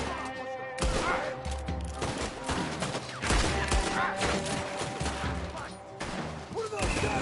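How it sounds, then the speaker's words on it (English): Bursts of gunfire from the Red Dead Redemption video game, rapid volleys of shots cracking over a dense in-game soundscape, with voices talking between and under the shooting. "What are those guns they have?"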